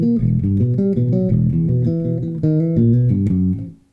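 An electric bass runs through the second two-bar section of a thrash metal riff: quick, continuous low picked notes with a different ending, played alone and close, then cut off abruptly.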